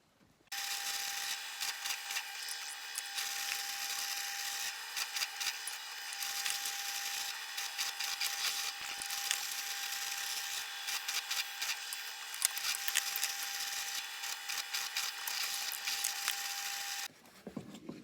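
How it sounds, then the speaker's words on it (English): A drill press bores node holes through marimba wood keys, a steady loud machine whine with a constant tone running continuously for about sixteen seconds, then cutting off near the end. "now we are going to take them to the drill press and drill the node holes"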